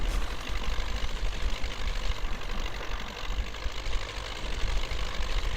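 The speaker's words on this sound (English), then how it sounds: "Still, this tractor has only about 80 horsepower, so not powerful." MTZ 82.1 tractor, an 80-horsepower machine in the off-road driving game Spintires: Mudrunner, with its engine running in a steady low rumble that stays loud and constant throughout, without speech.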